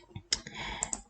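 Mouse clicks in design software while a rectangle is drawn: a few soft, close clicks spaced through a quiet second, with faint rustle between them.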